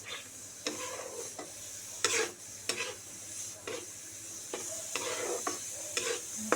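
Paneer and gram flour are stirred in a pan, with a spatula scraping and tapping at irregular intervals over a low steady sizzle. The sound is close and fairly quiet, with no talking.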